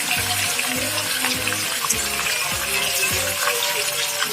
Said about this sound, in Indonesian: Tumis ya bumbunya, ini udah dihaluskan semua.